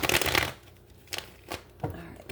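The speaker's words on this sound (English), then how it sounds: "Let's do 3 shuffles and get for the sign of Leo." Tarot cards riffle in a long shuffle at the start, then a few brief card snaps and taps follow, close to the listener and fairly loud, with no talking.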